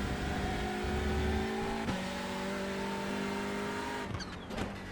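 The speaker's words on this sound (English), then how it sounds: "I love the sound of the gearbox. You can just hear the gearbox." An iRacing race car drives at speed, with a steady engine drone and a high gearbox whine throughout and brief shifts in pitch as the gears change. The car is heard close up, with no talk.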